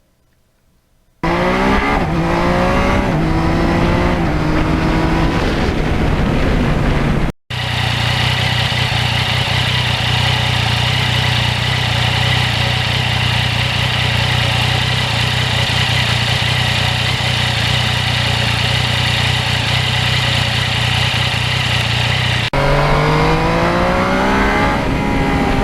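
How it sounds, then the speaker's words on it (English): A loud, raw 2020 Yamaha MT-09 engine with no muffler revs up through gears, then holds a harsh steady roar at speed before climbing again near the end. "this bike has no muffler."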